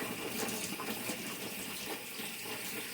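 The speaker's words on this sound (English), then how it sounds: "I'm going to rinse those real quick." Frozen strawberries are rinsed under a running kitchen tap, a continuous soft splashing gush of water that stays even and fairly quiet throughout.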